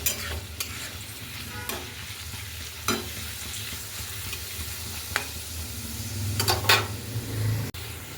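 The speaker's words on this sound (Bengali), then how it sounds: "বেরেস্তাটা ভেজে নিই" Sliced onions fry in oil for birista, giving a steady low sizzle broken by occasional sharp scrapes and clinks of a stirring utensil against the pan, with a louder burst of stirring near the end.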